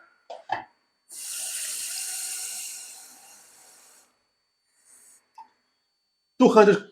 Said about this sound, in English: So I'm going to take 200 milliliters of water.